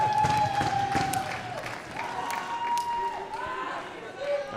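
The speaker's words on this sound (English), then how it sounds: "the Swiss crowd roaring their appreciation as a result" A Swiss crowd roars and applauds steadily at a women's Nations Cup match between Switzerland and Italy, a dense wash of cheering with a commentator talking over it.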